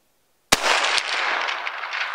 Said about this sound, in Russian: делаю сейчас третий выстрел